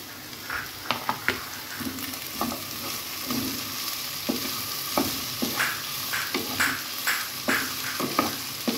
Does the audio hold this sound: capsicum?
yes